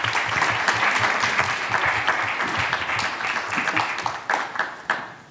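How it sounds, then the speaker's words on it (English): A panel audience at a national network convening applauds, with a dense, steady clapping wash lasting throughout, loud and close, with a few sharper claps near the end. "And you can clap for that."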